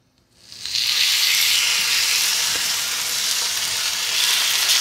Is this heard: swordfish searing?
yes